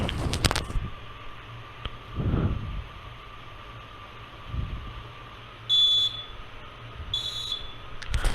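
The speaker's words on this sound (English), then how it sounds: "as soon as the first IR sensor detects the motion of the train, the buzzer starts beeping" An electronic buzzer on a model railway level-crossing gate, triggered by an infrared sensor as a train approaches, gives two short high beeps over a steady low hum, with faint clicks and handling noises around them.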